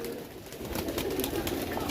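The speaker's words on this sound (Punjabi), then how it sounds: "ਲਓ ਭਾਈ ਵੇਖੋ ਕਬੂਤਰ" Pigeons coo softly and continuously in a crowded loft full of birds, a low murmuring chorus with no talk.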